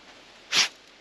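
A dog sniffs about on a hiking trail in a provincial park, then lets out a single short, sharp sneeze close to the microphone, alone against a quiet outdoor background.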